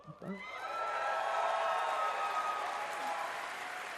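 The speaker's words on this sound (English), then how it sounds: "They're clapping and they don't even know what the fuck it is" Audience clapping at a Bethesda conference rises after a brief voice and continues as a broad, steady wash of applause, with faint cheers mixed in, heard from some distance.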